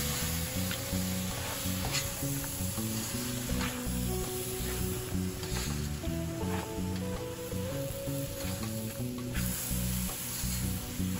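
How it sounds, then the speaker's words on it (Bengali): A pan of rava ladoo mixture being stirred as milk is added, giving a steady loud sizzle with scraping and stirring throughout, no talk, over a continuous background tone. "দুধ দিয়ে এটাকে নাড়াতে হবে"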